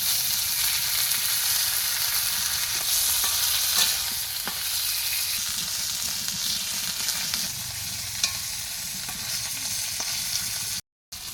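Rui fish frying in oil with cumin and onion makes a constant close hiss and crackle, with light stirring clicks; the sizzle cuts out briefly just before the end.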